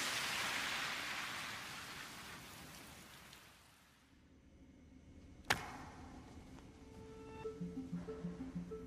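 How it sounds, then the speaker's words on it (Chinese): A sudden heavy downpour hisses steadily and loudly for about four seconds, then drops away, leaving a quieter scene with a sharp click and faint tones. "不巧，突如其来的大雨让测试被迫推迟。"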